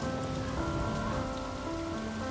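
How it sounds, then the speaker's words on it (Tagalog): Steady rain falls hard and continuously on surfaces outdoors, a dense even hiss with no pauses and no voices. "Ulan lang yan, hindi yan nakakamatay."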